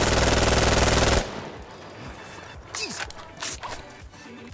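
A FAMAS F1 rifle in Insurgency Sandstorm fires a dense, fast-rate burst up close, then cuts off, leaving scattered softer clicks and thuds of handling in the background.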